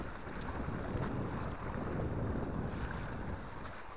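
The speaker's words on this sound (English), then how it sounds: "Look at these waves rolling in here" Waves rolling in on a dam reservoir in Scotland, a continuous rough rushing wash of water heavily mixed with wind buffeting the microphone, loud and steady with no voices.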